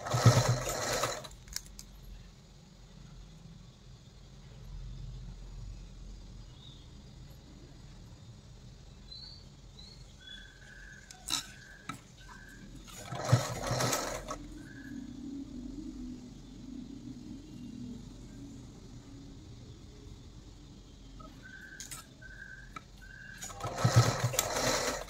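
Sewing machine stitching a blouse neckline to reduce its depth, bursts of fast mechanical whirring at the start, around the middle and at the end, with a low rumble and quieter pauses between runs.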